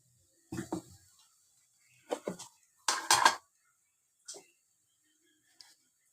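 A lid set onto a cooking pot while making tomato chutney with oil and salt, giving a few close metallic clanks and clinks in short bursts separated by quiet gaps.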